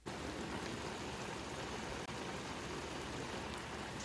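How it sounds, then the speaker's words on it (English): Steady rain falling outdoors over a vegetable garden, a dense, even hiss that stays constant throughout with no talking. "This rain is killing me."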